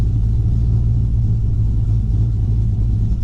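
A Gen 3 engine runs with its throttle cracked slightly open, giving a steady, loud, low rumble that holds even and unbroken throughout, with no voices.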